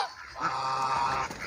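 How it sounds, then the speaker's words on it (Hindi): Geese honking at a mini zoo in Shergarh, a run of loud, close nasal honks over about a second and a half. "ये गीज़ हैं।"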